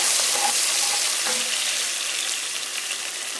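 Spices that were soaked in water fry in hot oil for Swahili pilau, giving a loud, steady bright sizzle with a few faint stirring scrapes, no voices.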